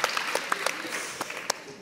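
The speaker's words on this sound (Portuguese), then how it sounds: "Essa merece uma pausa, uma salva de palmas." At a library forum, an audience gives a short burst of applause with individual claps standing out. A voice can be heard faintly beneath the clapping.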